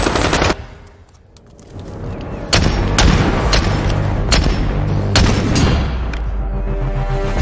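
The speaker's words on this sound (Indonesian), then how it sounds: "Baku tembak terjadi." Gunfire in a film shootout between cartel men and police, with loud close bursts of shots and heavy booms over a dense rumbling action soundtrack, a short lull, then sustained firing.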